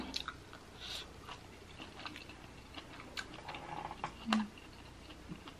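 Soft, close chewing and nibbling of crab-stuffed salmon with garlic cream sauce, quiet wet mouth sounds with small clicks at an irregular pace and a brief louder bite near the end.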